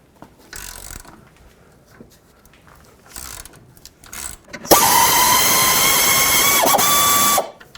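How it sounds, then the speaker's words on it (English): A ratchet clicks on the 14mm strut top nuts of a 2001-07 Toyota Sequoia in short bursts, then a loud sustained power-tool whir for nearly three seconds, close up. "At the top of the strut, you'll see 3 14mm nuts. Go ahead and remove all 3 of them."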